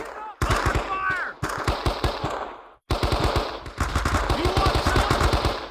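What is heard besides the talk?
machine gun fire in video game Men of Valor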